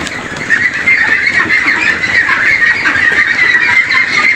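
A flock of farm ducks, about a month old, quack and chatter continuously nearby in a dense, steady chorus with no talking.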